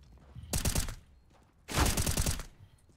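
Automatic gunfire in the shooter game CS:GO, two short rapid bursts of close, sharp shots separated by a brief pause, with no talking.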